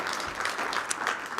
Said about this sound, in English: One more round of applause for Judith.